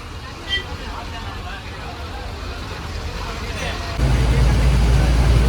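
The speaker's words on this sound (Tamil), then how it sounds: "பஸ் ஸ்டாண்டோட தானே ரொம்ப டிராஃபிக்காக இருக்குது." Heavy road traffic heard from inside an old green TNSTC government bus near a bus stand in Tamil Nadu, a steady rumbling wash of engines and street noise with muffled background voices, growing louder near the end.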